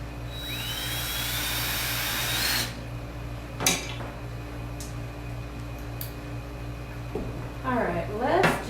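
A power drill runs steadily for about three seconds as screws are driven into a stubborn wall in a craft room, followed by a few brief clicks and knocks, with voices talking nearby toward the end.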